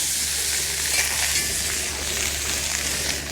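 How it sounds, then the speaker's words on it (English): A steady, dense hiss of ribeye steak sizzling in a hot pan at a winter campsite, crackling evenly and close up with no pauses. "Good sizzle."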